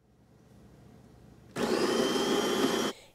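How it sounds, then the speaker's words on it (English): An automatic coffee machine grinds whole coffee beans in a built-in top grinder, a loud steady whirring burst lasting over a second that starts and stops abruptly after quiet background hum. "It automatically grinds the beans at the top of the machine."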